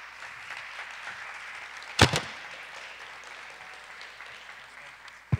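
Audience applause welcomes a guest onto the stage at a live Miss Teen Mundial 2022 pageant. A faint, steady patter of clapping is broken by a couple of sharp, loud knocks.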